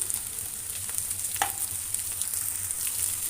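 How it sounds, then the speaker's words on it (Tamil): Carrot, beans and green chili sizzle steadily in a hot pan, with a bright continuous frying hiss and a few soft stirring scrapes, close and alone without voices. "இது நல்லா மசிச்சு நல்லா வதங்கட்டும்"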